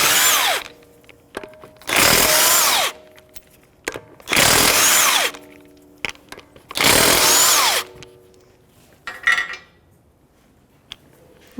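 An impact power tool bursts in three long rattling runs, with shorter blips between them, as it spins 17 mm lug nuts off the stud-type wheel of a 2015–2024 Jeep Renegade. The sound is loud and close, with clinks after each run.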